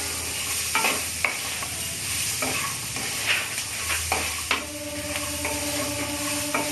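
Brinjal and peas stirred in a pan with a little turmeric, a steady frying hiss broken by repeated scraping and clinking strokes of the spoon against the pan, close and moderately loud.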